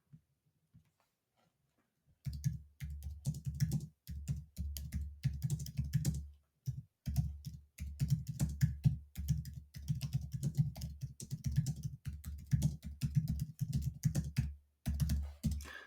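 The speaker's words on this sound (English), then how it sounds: "I actually am typing it here" Steady typing on a computer keyboard, quick clicks in bursts with brief pauses, close and fairly soft, no talking.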